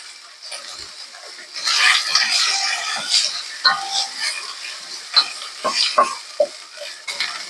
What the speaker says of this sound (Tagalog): Tustahin lang natin yung giniling.